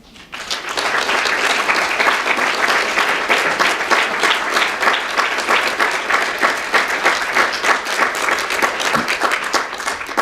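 A conference audience applauds steadily after a speech, a dense, sustained wash of clapping that starts abruptly and stays loud and even throughout, with no talking over it.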